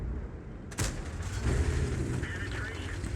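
A distant artillery gun fires once with a dull boom and a rolling tail during a World of Tanks battle on the Pearl River map, as heard from a Tortoise tank destroyer. A voice talks quietly under the blast.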